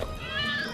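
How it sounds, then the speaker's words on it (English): Cats let out a brief, close, drawn-out meow over a steady background hum, lasting under a second. "Hope you like cats."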